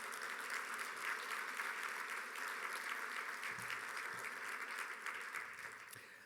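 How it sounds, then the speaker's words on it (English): An audience at the Junior Achievement Business Hall of Fame 2025 gala gives the DayTech students a round of applause, a steady wash of many hands clapping that thins and fades toward the end. "Can we get one more round of applause for the DayTech students?"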